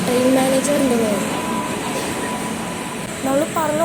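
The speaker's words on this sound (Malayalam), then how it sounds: "ആ ട്രെയിനിൻ്റെ ലോക്കോമോട്ടീവ് അവിടെ പോയി കറങ്ങി ഇവിടെ ഒന്ന് കപ്പിൾ ചെയ്യാൻ വന്നിട്ടുണ്ട്" A WDP 4D diesel locomotive coupling onto a train at a station, with a steady rumbling engine drone, a squealing whine of wheels or brakes rising and falling near the start and again at the end, and faint voices in the background.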